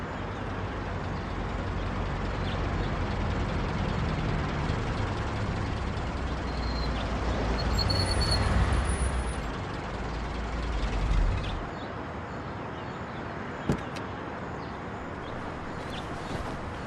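Car engine droning steadily while driving in the 1930s gangster game Mafia, a continuous low rumble with road noise that eases off partway through, followed by a brief sharp click near the end.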